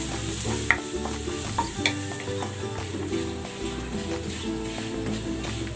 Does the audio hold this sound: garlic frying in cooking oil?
yes